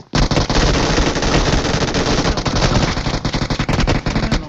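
Dense, loud bursts of automatic gunfire from a shooter video game, with rapid overlapping shots packed almost continuously through the whole stretch and no talk over them.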